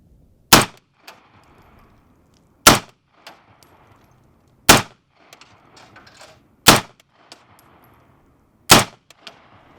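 Five sharp rifle shots, a mix of suppressed and unsuppressed fire, spaced about two seconds apart. Each crack is loud and close, followed by brief faint handling noise.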